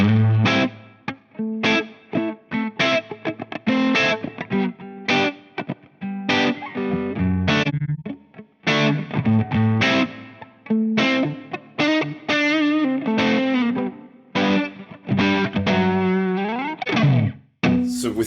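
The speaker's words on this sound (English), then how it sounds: "with ambient, you actually get a reverb added to it, a stereo reverb added to it" Electric guitar played through a Two Notes Torpedo Captor X on its ambient setting, with distorted, effect-laden chords and riffs carrying a wide stereo reverb tail, loud and steady, with no voices.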